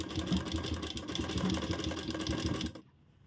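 Electric sewing machine stitching at a slow, steady pace along the edge of fabric for a pocket zip, a continuous mechanical whir that runs close and loud for under three seconds before stopping abruptly.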